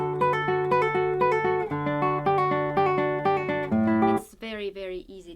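Nylon-string classical guitar plays slurred passages from Carcassi's Etude No. 4 with an uneven, swung rhythm over steady bass notes, close and clear with no talking, ending on a brighter flourish.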